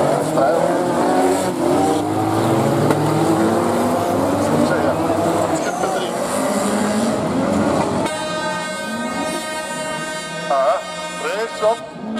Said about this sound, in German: Das sind Top-Rennfahrzeuge.